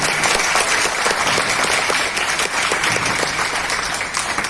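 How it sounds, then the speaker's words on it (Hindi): Audience at a training program in a hotel hall applauding loudly, a dense, steady burst of clapping that fills the whole stretch with no talk over it. "जोर से तालियां"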